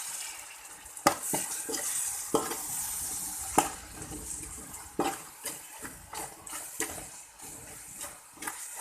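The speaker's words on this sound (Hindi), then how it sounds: "मसाले की 1 मिनट के लिए तकरीबन आप इसकी भुनाई कर रहे हैं" Masala spices for a spicy black chana rice pulao fry and get stirred in a pan, with steady sizzling, a few added splashes of water, and repeated sharp scrapes and clinks of a spoon against the metal.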